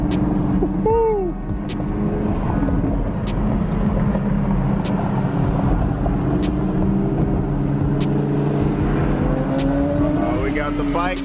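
A Chevrolet Corvette C8 at a street car meet, its engine droning and revving loudly amid crowd chatter and shouting, with other vehicles and background noise layered throughout.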